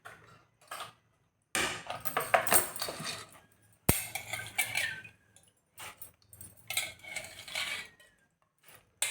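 A pressure cooker is set up in a home kitchen while cooking mustard greens, with metal pots and utensils clinking and knocking in short, irregular bursts separated by brief quiet gaps.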